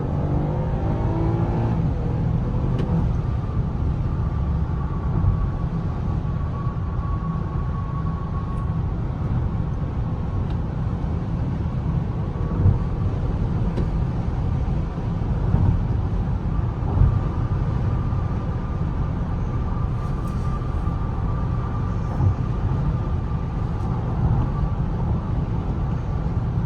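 A 2022 Lexus ES350 drives along with a steady low engine and road hum, a faint rising whine, and occasional light bumps from the cabin, with no one talking.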